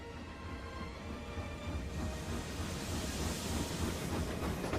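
A train from the 2012 film Anna Karenina rumbles steadily and loudly, a continuous low roar with a faint hiss that swells slightly partway through, with no voices.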